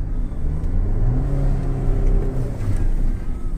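Mitsubishi Delica D2 hybrid engine revving steadily up close, a continuous droning whir that holds and swells slightly without pause.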